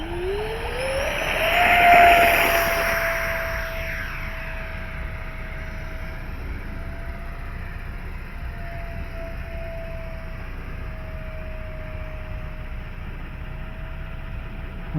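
An E-flite Habu STS RC jet on 4S power passes at full throttle after takeoff, its electric ducted fan whine swelling as it nears, then holding a steady high tone as it pulls away.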